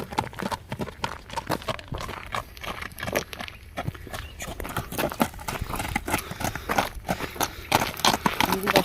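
A horse's hooves clip-clop on stony ground in an irregular, fairly close patter of sharp knocks, with no talking over them.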